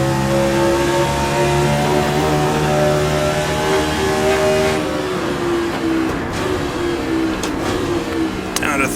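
A simulated Formula 1 car engine in Assetto Corsa screams loud and steady, rising in pitch through the upper gears with a sudden tonal drop at each upshift around midway and later.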